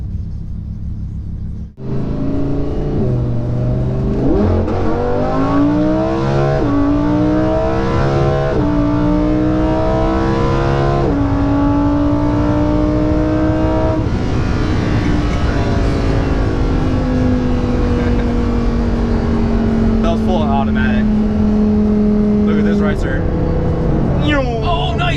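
Lamborghini Huracan Performante or Dodge Viper ACR twin turbo supercar engine pulling hard through several rising gear sweeps, loud and close from the cabin, then a long droning hold that eases down, with people talking and exclaiming over it.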